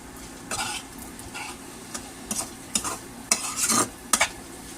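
Village-style beef pasta cooking in a pan, stirred with a utensil that scrapes and clinks in irregular bursts over a low, continuous sizzle, close and fairly loud, with no talking.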